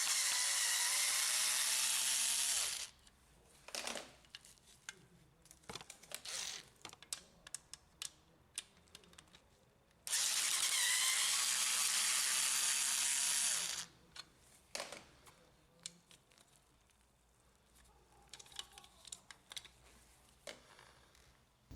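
Screws being backed out of the side of a Panasonic KX-MC printer drum unit, two long bursts of close, busy scratchy ratcheting separated by scattered small clicks and handling taps, with no talking.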